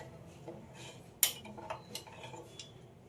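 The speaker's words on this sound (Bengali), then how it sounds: "চামচ দিয়ে মশলার সঙ্গে তেলটাকে খুব ভালোভাবে মিশিয়ে নিতে হবে।" A spoon clinks against a bowl while mixing oil with spices for a raw mango and garlic preparation: one sharp clink, then several lighter scattered taps over a quiet background.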